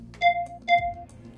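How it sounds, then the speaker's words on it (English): Two quick electronic ping tones in succession signal the end of an exercise in a Total Gym upper body workout, crisp and evenly spaced over quiet background. "Listen for the double ping"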